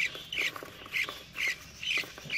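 Budgerigar chicks in a nest, three young from a red-eyed lutino female and a normal male, give repeated raspy squawks in regular bursts about every half second, close up and fairly loud.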